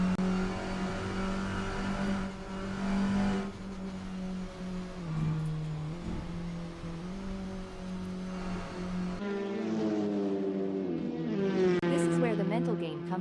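A touring race car in a sim racing game sweeps through the Bosch curve, its engine droning steadily with shifting pitch, then rising into a higher revving whine near the end.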